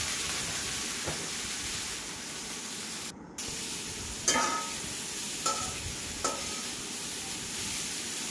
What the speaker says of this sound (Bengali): বরবটিগুলো ভাজবেন।